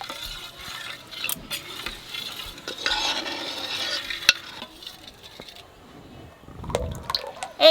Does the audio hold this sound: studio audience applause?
no